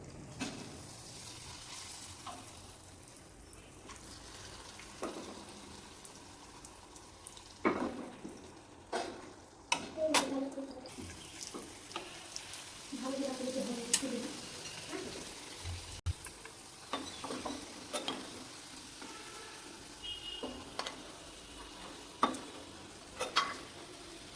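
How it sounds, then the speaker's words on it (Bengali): Fuchka (golgappa) puris frying in hot oil, a quiet sizzle with scattered crackles and ticks and occasional clinks, steady throughout. "তেলটা উষ্ণ গরম হলে আমি ফুচকাগুলো এক এক করে ছেড়ে দেবো"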